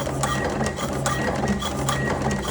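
An electric automatic cigarette rolling machine running in turbo mode gives a steady, close mechanical whirr with rapid repeating clicks, continuous throughout with no talk.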